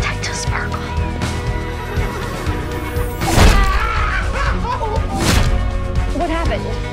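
A horse in a unicorn fantasy film whinnies and neighs a few times amid a busy cinematic soundtrack with music and thuds, while people speak over the scene.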